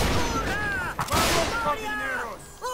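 Musket gunfire in a Mount & Blade: North and South battle, repeated cracking volleys popping under ongoing voices.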